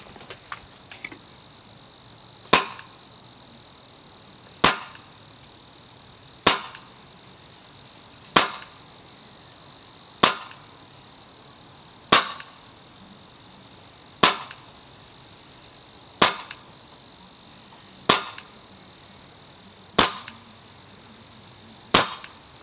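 An airsoft Glock G4 fitted with a Polar Star Fusion Engine, set to 100 psi with a blue nozzle, fires 0.25 gram BBs: twelve crisp, sharp pops spaced about two seconds apart, close and alone over a quiet background.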